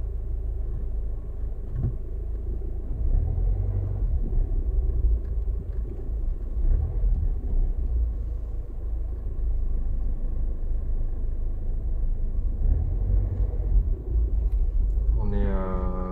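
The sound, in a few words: car driving and parking near Champ de Mars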